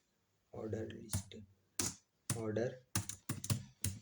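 A computer keyboard is typed on while HTML is being written, with short bursts of sharp key clicks between stretches of a nearby voice speaking.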